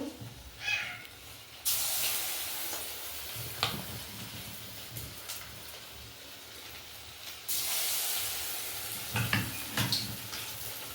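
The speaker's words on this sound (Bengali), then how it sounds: "কড়াই তেল দিয়ে দিয়েছি তেলটা গরম হয়ে গেছে এবার এইগুলো আমি একটু ভেজে নেবো" Chicken pieces for chili chicken frying in hot oil in a kadai, a steady broadband sizzle with two louder bursts as pieces hit the oil, plus occasional clinks, no talk.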